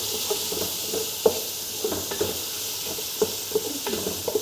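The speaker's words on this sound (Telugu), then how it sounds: "ఈరోజు వంట రైస్ హస్సు వండుతున్నాను." Rice being stirred in a sizzling pan, a steady frying hiss broken by repeated scraping strokes of the spoon, close and alone with no voices.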